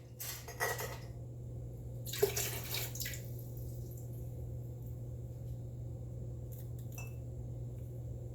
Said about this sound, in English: I dump the water out